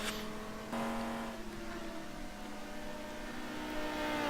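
GT2 race car engine at Spa in a racing video game, a continuous high engine whine under steady throttle with a slight pitch shift partway, close and unbroken, with no talk.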